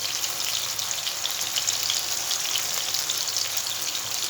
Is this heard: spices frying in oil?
yes